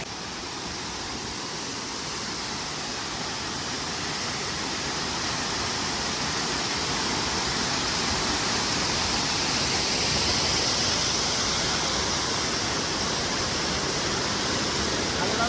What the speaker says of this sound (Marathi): वरून पाणी खाली वाहतंय मस्तपैकी एकदम.